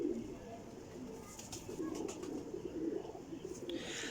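Red-eyed breeder pigeons coo softly and repeatedly in low, throaty bursts, fairly close, over a quiet background with faint rustling.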